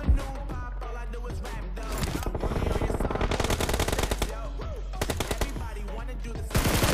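Assault rifle fire in PUBG Mobile, comparing the ScarL and M416, with dense rapid bursts rattling across the whole clip, loud and close, plus a sharp burst at the end, layered over game sounds.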